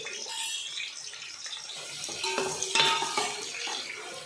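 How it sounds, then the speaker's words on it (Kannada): Sliced onions fry in a pot for Ambur-style chicken dum biryani, a soft, continuous sizzle with stirring and light scraping against the pan that grows a little louder midway. "ಈಗ ಇದು ಚೆನ್ನಾಗಿ ಏನಿಲ್ಲ ಅಂದರೂ ಒಂದು ನಾಲ್ಕು ನಿಮಿಷ ಫ್ರೈ ಆಗಬೇಕು ಚೆನ್ನಾಗೆ ಬ್ರೌನ್ ಕಲರ್ ಬರಬೇಕು"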